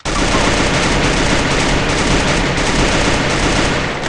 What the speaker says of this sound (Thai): นี่คือปืนที่พี่ได้นะครับ